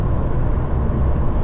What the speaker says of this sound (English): You do get the faint noise of the supercharger kicking in, and it just propels you to the speed limit